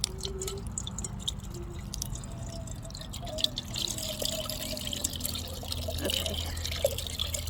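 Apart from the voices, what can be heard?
coconut water pouring out of opened coconut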